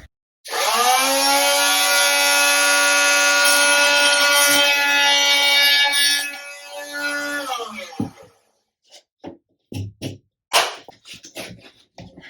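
A power saw cutting a junction-box hole in drywall sheetrock, a loud close whine that holds steady for about seven seconds and then winds down, followed by a few scattered knocks and handling sounds.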